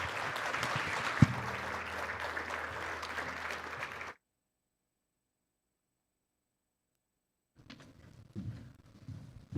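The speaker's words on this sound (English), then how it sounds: "can everybody help me in a round of applause for Mike?" An audience at an energy summit applauds for about four seconds, then the sound cuts to silence, and softer scattered clapping returns near the end.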